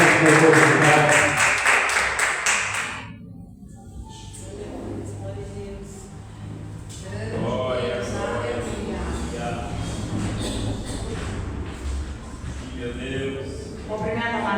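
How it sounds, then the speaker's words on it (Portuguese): Congregation clapping during a church worship service, loud steady applause for about three seconds, then a preacher's voice talks over softer scattered sounds. "As palmas para o Senhor"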